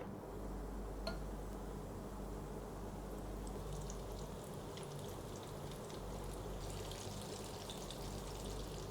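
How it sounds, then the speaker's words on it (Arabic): Chicken pieces frying in hot oil give a steady, dense crackle and patter with bright fizzing spatter, continuous for several seconds with no voices. "زيت سخن. هنزل الفراخ على طول"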